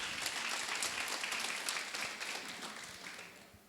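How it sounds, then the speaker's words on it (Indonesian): Applause from a church congregation at a women's prayer gathering, a dense, steady patter of many hands clapping that carries on evenly before gradually thinning and fading toward the end. "Wow, coba kasih tepuk tangan dulu dong"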